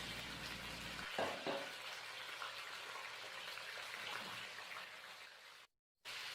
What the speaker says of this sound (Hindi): चिकन आप देख सकते हैं अच्छे से फ्राई होने लगी है